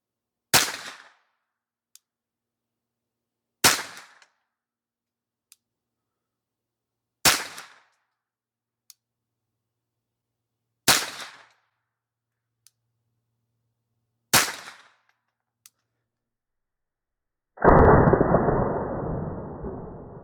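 Five evenly spaced rifle shots from a Hammerli Force B1 .22LR bolt-action rifle, each a sharp crack a few seconds apart with brief clicks between, followed by a longer burst of broadband noise.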